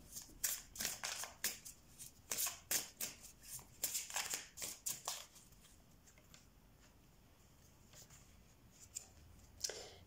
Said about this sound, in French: Je vais prendre une dernière carte